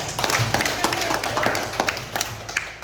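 Brief scattered clapping in a classroom, a small group of students applauding a classmate in quick irregular taps that thin out toward the end, with no talk over it.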